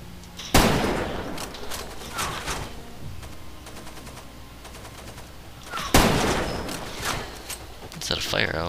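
Gunfire in the video game Far Cry 2: two loud, sharp shots or bursts about five seconds apart, each trailing into echoing decay, with scattered quieter game sounds between them.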